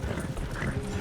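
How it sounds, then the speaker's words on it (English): Horses trot across Red Dead Redemption 2 terrain, a steady run of hoof clip-clops under a dense rumble of game ambience, with faint voices in the mix. "You're gonna lame these horses."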